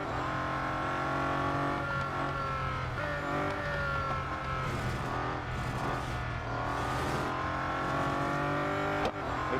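In the Real Racing 3 video game, a Bugatti Centodieci's engine races continuously, its pitch dipping and climbing as it shifts and takes corners, with a brief tire squeal near the end.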